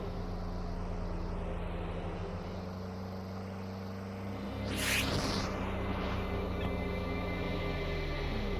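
A Lada Niva driving in S.T.A.L.K.E.R.: Lost Alpha gives a steady low engine drone with a rising whoosh of passing noise near the middle, continuous and moderately loud with no talk.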